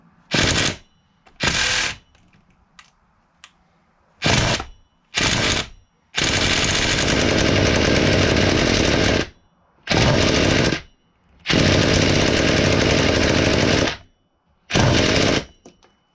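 A Losi Muggy nitro RC truck engine sputters and buzzes in repeated loud bursts while trying to start, revving harshly for a few seconds each time before cutting out, with short silences between attempts.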